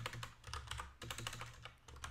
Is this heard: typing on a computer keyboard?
yes